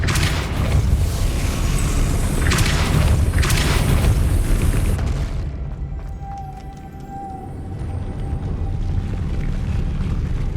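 Depulso spell cast in the video game Hogwarts Legacy: a loud, booming magical blast with a dense rumbling burst in the first half, fading into a quieter sustained hum with a faint tonal whine.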